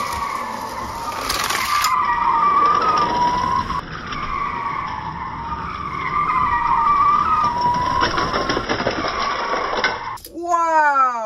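Hot Wheels toy cars race down a track during a five-heat tournament, giving a continuous rolling, whirring rush with squeal-like tones and rattling clatter, loud and steady for about ten seconds before a brief chirping sweep at the end.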